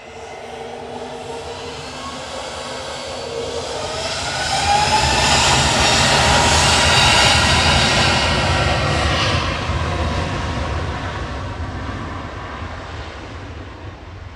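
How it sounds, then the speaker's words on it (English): A Cathay Pacific Airbus A350-900 arriving from Hong Kong touches down, its jet roar swelling to a loud broad rush midway and then slowly easing off as the airliner rolls out. "Cathay Pacific, specifically touching down from Hong Kong with flight 259,"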